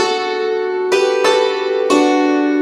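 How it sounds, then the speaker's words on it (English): Hammered dulcimer chords in Silent Night, three struck block chords ringing out full and bright over a sustained wash of strings, close and loud with no voices. "if we play block chords as we did earlier, it would sound like this."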